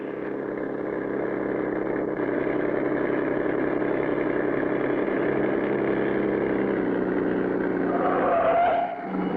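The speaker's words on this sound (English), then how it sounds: "The driver starts the motor and away goes the truck." Cartoon truck motor running steadily and pulling away, a continuous loud engine drone that holds throughout, with a brief higher squeal near the end.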